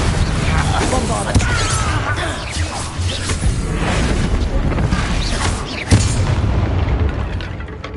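Bombarda spell explosions in the Hogwarts Legacy video game, loud booming blasts with whooshes and crashing debris, a sharp hit near the middle, under a constant dense roar and game speech.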